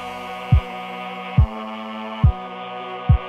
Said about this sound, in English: I want it to sound as though the kick drum is pushing this Mellotron track down in the mix